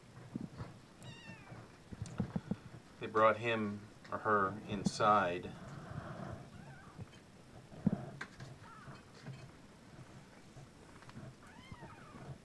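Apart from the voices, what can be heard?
kitten meowing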